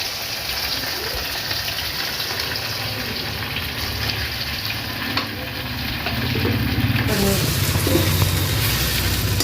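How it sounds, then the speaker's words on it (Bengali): Close, steady sizzling of onion and ginger paste frying in oil, growing slightly louder and busier partway through as it is stirred. "একটু আদা বাটা দিয়ে দেবো পেঁয়াজের সঙ্গে ভাজা ভাজা হয়ে যাবে"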